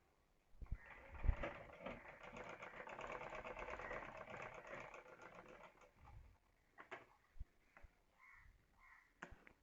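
A sewing machine runs a straight seam on a blouse dori in a quiet room, one continuous stitching burst of several seconds, followed by a few short clicks and stops.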